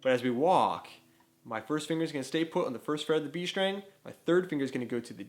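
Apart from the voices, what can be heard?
None of the usual background noises is heard.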